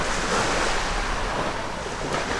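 Sea waves wash steadily onto a broad sandy beach at a Koh Chang resort in Thailand, a continuous close surf roar with some wind noise and no voices.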